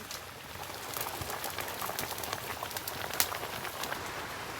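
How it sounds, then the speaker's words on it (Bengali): Heavy rain falls outside during home cooking of a pangasius fish curry, a steady, fairly faint hiss of drops pattering on surfaces with no voices over it. "বাইরে ভালোই পরিমাণে বৃষ্টি হচ্ছে"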